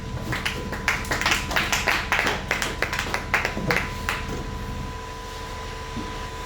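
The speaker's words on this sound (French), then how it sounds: "Est-ce qu'on peut applaudir le Seigneur?" A short burst of clapping from a church congregation, fairly close, fades out after a few seconds into a quiet room hum.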